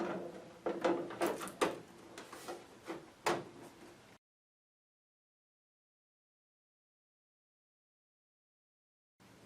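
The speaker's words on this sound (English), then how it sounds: "reinstall your filter door by matching the tabs with the slots" A plastic filter door on a water ionizer is fitted back in place, with a few close scraping clicks and taps as its tabs seat into the slots, followed by silence.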